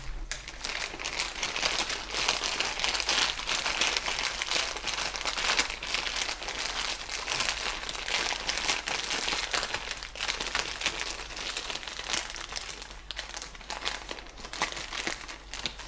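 A plastic bag crinkles and rustles continuously up close as it is opened and widened into a cup shape for air layering a Ficus benjamina, dense irregular crackling throughout with no talk.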